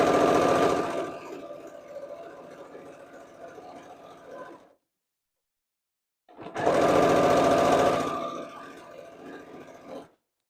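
A sewing machine stitches improv quilt seams in two steady bursts, each starting loud and easing off, with a pause of silence between them; close and continuous whirring with no talking.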